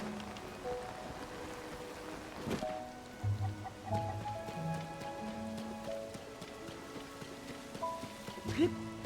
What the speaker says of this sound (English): I guess the rain hitting it against Link's paraglider.